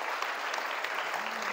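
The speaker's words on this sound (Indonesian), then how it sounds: "tepuk tangan untuk kita semuanya" Audience applause at a public speaking seminar held at a vocational high school in Jakarta, a steady dense wash of many hands clapping for the whole short stretch, moderately loud with no talk over it.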